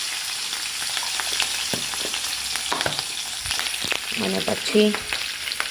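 Green chillies and asafoetida frying in a pan for a gram-flour and coriander dish, a constant sizzle with repeated stirring scrapes up close, and a brief spoken phrase near the end.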